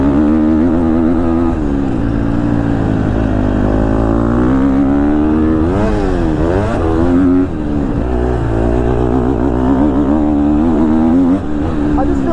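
A 2022 KTM 250 SXF four-stroke motocross bike is ridden, its engine droning and rising and falling as the throttle rolls on and off, loud and close throughout with a voice talking over it.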